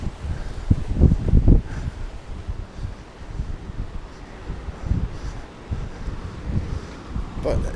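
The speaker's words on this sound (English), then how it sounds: "Windier today than usual." Wind gusts buffet the microphone at a seaside boat harbour in Ayia Napa, Cyprus, a steady rushing bluster with stronger thumps early on and a voice speaking briefly.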